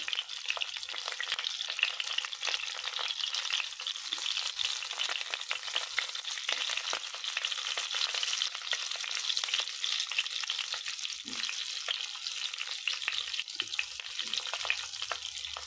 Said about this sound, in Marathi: ही मिरची परतून घ्यायची आहे